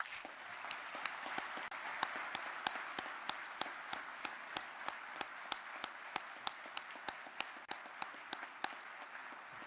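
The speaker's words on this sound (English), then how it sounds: "So I want to give him a round of applause." Audience at a Distinguished Service Cross ceremony gives a round of applause, a moderately distant, even wash of clapping with sharp individual claps cutting through at a regular beat, and no talking.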